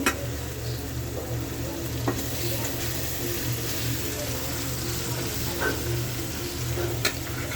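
Fish pieces are added to fried fish-roe masala in a pan, giving a steady close sizzle with a few faint clinks of a utensil throughout.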